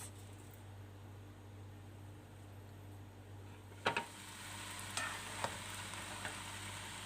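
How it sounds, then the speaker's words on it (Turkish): Tarhana soup stirred in a pot to keep it from sticking, with a soft steady simmering hiss, a few sharp scrapes and knocks of the spoon against the pot near the middle, then lighter stirring. "Şöyle biraz karıştırıyorum dibine yapışmaması için."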